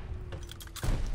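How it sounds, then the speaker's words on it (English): Gunfire in the Call of Duty: Vanguard open beta: a brief burst of several sharp shots in the first part, then a heavier, louder low boom-like rumble takes over toward the end. "Oh shit, they're shooting at me."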